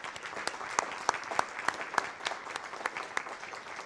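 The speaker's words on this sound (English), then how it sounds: "Let's give them a great round of applause." A room of attendees at a Surrey Board of Trade business event gives a round of applause for sponsors, moderately quiet clapping with distinct sharper individual claps standing out at a regular beat across the whole stretch.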